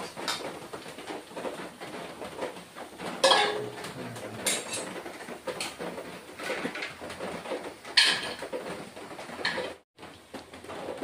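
Red amaranth greens frying in a pan as it gets covered, with metallic clinks and two sharper lid clatters against the rim, while pigeons coo softly in the background.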